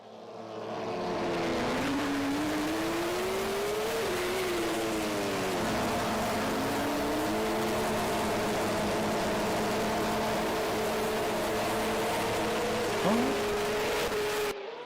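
Porsche 911 race cars lap Monaco in the Assetto Corsa racing game, one engine droning loud and steady throughout with pitch swinging up and down through gear changes and corners.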